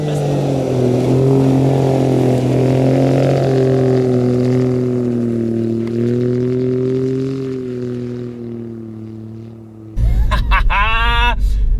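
An Alfa Romeo Giulia Quadrifoglio engine drones steadily at a Bosch test facility for about ten seconds, then fades, followed by a brief sharp burst of revving and an abrupt shift in sound.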